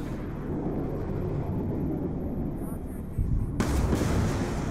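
Gunfire in the Call of Duty: Black Ops 2 video game: a sudden loud blast cuts in near the end over a low rumbling game soundscape, with faint voices present.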